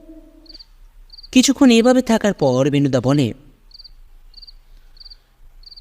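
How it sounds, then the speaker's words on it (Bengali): Crickets chirp at night near dark hills in rural Purulia, short regular pulses of thin high trills repeating steadily in the background while someone narrates over them. "ঝিঝি পোকার শব্দ।"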